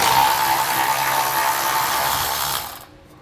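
A power tool removes 12mm bolts from a truck frame, a loud, steady, close whirring buzz lasting a few seconds before stopping abruptly, with no talking.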